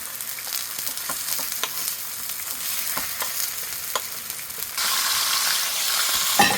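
Zucchini pancakes fry in a pan with a steady, close sizzle and occasional crackles and spatters, growing louder and brighter toward the end.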